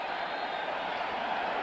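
Stadium crowd at a 2001 NFL game between the Saints and Patriots roars steadily after a Patriots scoring drive, a dense, continuous wall of cheering with no breaks and no distinct voices standing out.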